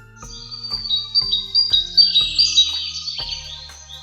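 Bright, high chirps repeat in quick succession over a low steady background tone, and the twittering thickens into a busier burst partway through.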